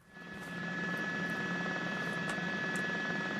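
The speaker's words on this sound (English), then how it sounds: "News Chopper 4 over the scene." A news helicopter hovers over a police pursuit after a deadly Pomona shooting, its steady engine and rotor drone heard at a distance, faint and continuous with no talk.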